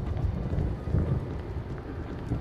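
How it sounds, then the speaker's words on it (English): Thunder and rain from a storm in the video game Resident Evil give a steady low rumble with a dense wash of rainfall. The noise is continuous and moderately loud, and no one speaks. "This damn lightning is not helping."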